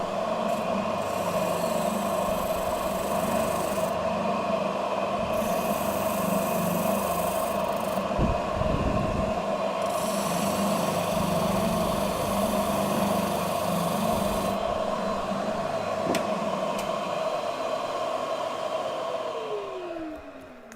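A Jet TSO-DBF-45 spindle sander runs with a steady mechanical hum and a high whine, with periodic bursts of brighter grinding noise as workpieces are sanded, then winds down at the end, with no talking.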